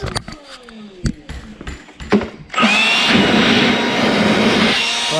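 A cordless leaf blower, either a DEWALT FLEXVOLT 60V MAX or a Milwaukee M18 FUEL, spins up after some clattering handling noises, then roars steadily with a loud, broad airy rush until the end.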